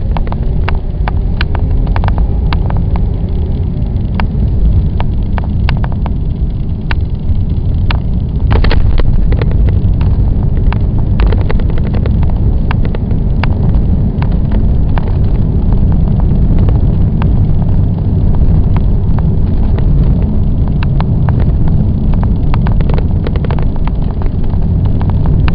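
Interior road noise from a supercharged 2008 Cadillac XLR-V driving over rough blacktop embedded with seashells: a loud, steady low rumble with tire roar and scattered clicks and thumps, continuous throughout with no talking.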